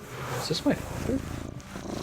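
Cat purring in the Shenmue video game, a low continuous rumble heard under someone speaking briefly over it.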